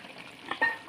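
Water poured into a pan of dried fish curry, giving a short burst of sizzling and frying hiss, close and brief.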